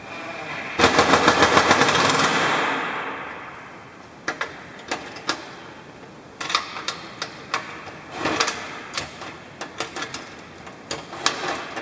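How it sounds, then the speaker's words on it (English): A speed wrench ratchets while a Kobalt router is mounted on a Delta table saw: a fast, loud burst of clicking, then shorter intermittent clicking runs close to the microphone. "Grab my speed wrench"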